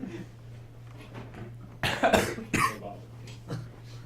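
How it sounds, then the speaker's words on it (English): A cluster of several sharp coughs close to the microphone, over a faint steady hum. "Coughing."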